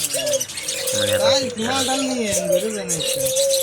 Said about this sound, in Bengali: এটা হলো মুনিয়া পাখি।